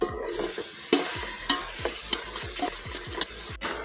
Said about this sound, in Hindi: थोड़ा सा इसमें पानी डाल के इसको भूनेंगे 5 मिनट तक